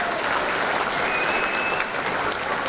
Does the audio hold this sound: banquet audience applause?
yes